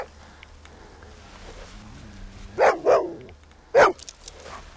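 A dog barks three times, loud and close, in two quick barks and then a single one, over a low, quiet background.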